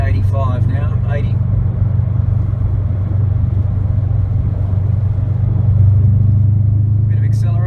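A 2017 Subaru WRX STI with an Invidia R400 cat-back exhaust cruises in fourth gear on a freeway, its steady low exhaust drone loud and continuous with a slight swell under light throttle, while a voice talks briefly at the start.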